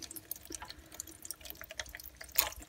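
Fuel from a Honda generator that would not run drains out while the carburetor is being removed, heard as a soft, close trickle with irregular drips and small splashes and one louder splash near the end.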